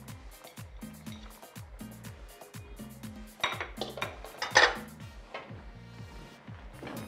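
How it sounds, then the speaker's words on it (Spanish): A spoon stirring beef stew with chayote, tomato sauce and vegetables in a pot, repeated rhythmic scraping and clinking of metal against the pot, close and fairly loud, with a brief busier clatter midway. "Voy a mezclar muy bien."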